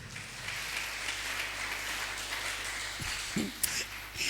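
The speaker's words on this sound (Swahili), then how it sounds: "Tupigie watu wa praise team na sound hapa makofi." Applause for a church praise team at a Kenyan ministry service, a soft, steady wash of clapping held at a moderate distance throughout, with no voices over it.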